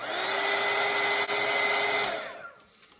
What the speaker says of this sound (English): And I'm going to let this dry by using my dryer.